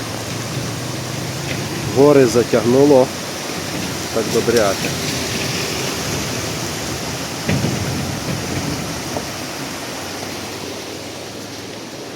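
Steady hiss of rain fills the background throughout, on a mountain ridge route toward Osmoloda, Ukraine, with a person speaking briefly over it and a few faint knocks.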